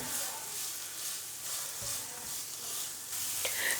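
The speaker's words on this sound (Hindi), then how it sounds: "गाजरों को करेंगे हल्का सा फ्राई।" Finely grated carrots frying lightly in a pan give a steady, close sizzle and hiss with occasional stirring scrapes, continuous throughout.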